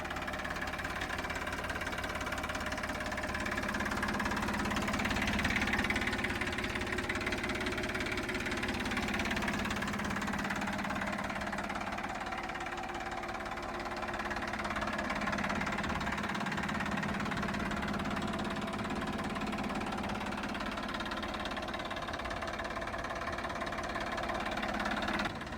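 A Massey Ferguson MF254DI tractor's diesel engine idles steadily, a low continuous rumble with a faint knocking character that holds at a constant level throughout, with no talk.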